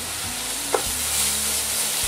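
Shrimp shells for a bisque fry in a hot pan with a loud steady sizzle, a single sharp clink of a utensil near the start, and a low background hum throughout.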